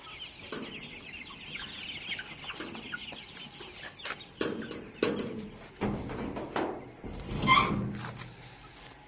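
Broiler chickens on a poultry farm cluck and squawk in scattered bursts, some loud and near, others softer, with a busy flock chorus throughout.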